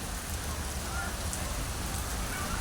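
Steady rain falls at a beach in Hong Kong in a constant, fairly loud wash of patter, with faint voices mixed in underneath.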